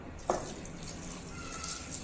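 Water pouring into a cooking pot of tomato and onion sambar base, a steady soft splashing stream heard up close for about two seconds, with a brief louder splash near the start.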